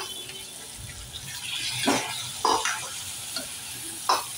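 Potatoes tipped into a pan of cluster bean bhaji, a soft sizzle broken by a few close scraping and stirring knocks, no talking.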